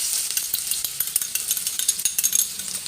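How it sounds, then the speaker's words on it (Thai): Chopped garlic sizzles and crackles in hot oil, a steady bright hiss with frequent small pops and stirring scrapes, close up. "ตั้งกระทะแล้วก็ใส่น้ำมันเรียบร้อยแล้วนะคะ"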